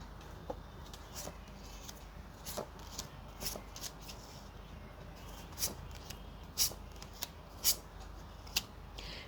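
Tarot cards shuffled by hand in a quiet room, giving a series of soft, brief riffling and snapping bursts at irregular intervals over a low steady background hum, with no talking.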